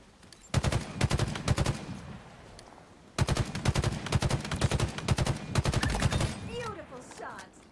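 Automatic gunfire in Halo Infinite rattles out in two long rapid bursts with a short pause between them, loud and close, and a voice comes in briefly at the end.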